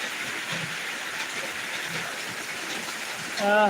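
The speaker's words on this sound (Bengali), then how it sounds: "দিনাজপুর সদরের মধ্যে এই মুহূর্তে এই মুসলধারে বৃষ্টি শুরু হয়েছে" Torrential monsoon rain pours down in Dinajpur Sadar, a steady dense hiss of downpour on the surfaces outside a house gate, running unbroken and loud, with a brief voice breaking in at the very end.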